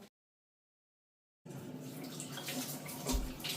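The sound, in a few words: water running from a tap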